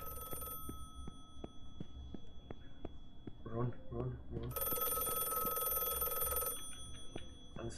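A telephone bell rings in the John Morley video game, a bright electronic trill in two bursts with regular ticking underneath, while a voice whispers quietly in the middle.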